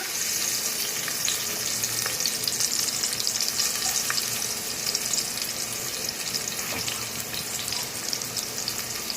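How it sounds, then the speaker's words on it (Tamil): Chopped onions frying in hot ghee, a steady dense sizzle with faint stirring clicks running continuously for about nine seconds, close and fairly loud with no talking. "நெய் சூடாயிடுச்சு. இப்போ நம்ம கட் பண்ணி வச்சிருக்கிற வெங்காயத்தை இதில் போட்டுக்கலாம்."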